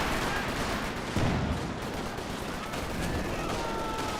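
Distant, continuous gunfire in the World War II strategy game Company of Heroes 2, including a bulldozer unit firing, heard as a dense rattling wash with one slightly heavier burst midway.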